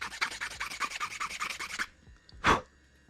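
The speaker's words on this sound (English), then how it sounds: "Ooh, this is actually where I should sand." Hand sanding on an engine part during a 2.7-liter Subaru Crosstrek engine build with an oil seal replacement, a close rhythmic rasping of repeated strokes for about two seconds, then a pause and one final short scrape.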